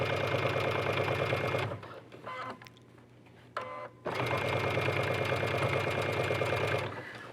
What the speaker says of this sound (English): we're going to stitch right on that raw edge